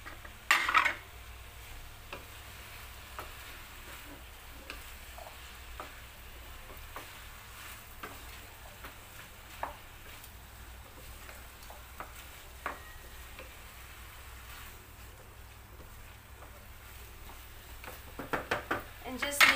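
Cabbage and chicken being stirred in a single pan, with spoon-on-metal scrapes and clinks over a soft steady sizzle, plus a few sharper knocks near the start and end.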